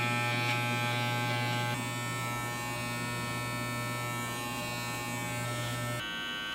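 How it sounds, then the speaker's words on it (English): Electric hair clippers buzzing during a home undercut, a close, continuous high buzz whose pitch and load shift as the blade meets hair, with a brief change near the end and no talking. "next we're going to touch up the lines with the inverted clipper technique"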